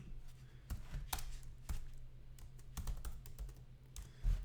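Typing on a computer keyboard while entering text into an app's input box, with clusters of quick clicky keystrokes in irregular bursts, close and moderately loud with no talking.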